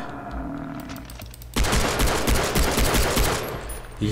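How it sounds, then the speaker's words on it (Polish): Rapid gunfire in Far Cry 3 as a buffalo is shot erupts suddenly after a quieter start: a dense, loud burst of repeated shots lasting about two seconds, then cutting off. "Trzy pewne strzały, ale potrzebny czwarty, i piąty, i szósty, i siódmy, i ósmy, i dziewiąty."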